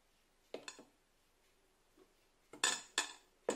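A spoon clinks against a bowl while flour and egg white are folded into cake batter: a few light taps, then louder, sharper knocks near the end, close by and with no talk.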